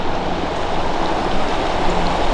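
After rain breaks a Normandy drought, water rushes into a stream in a loud, constant, close-up gurgling flow with no pauses.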